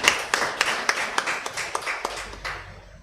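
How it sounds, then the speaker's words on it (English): Sparse clapping from a small audience at a bar association event, a dozen or so distinct claps spread unevenly over three seconds, fairly close and thinning out toward the end, with no talk over it. "So join me in clapping for Trevor."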